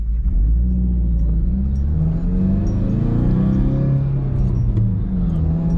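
A 2018 Subaru WRX driving on a mountain road, its engine droning loudly and steadily with the pitch rising and falling as it accelerates and eases off, alone without talk.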